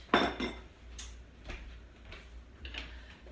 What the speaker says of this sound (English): So I put the wet ingredients in with the dry ingredients.